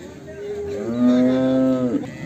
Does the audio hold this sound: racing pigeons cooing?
no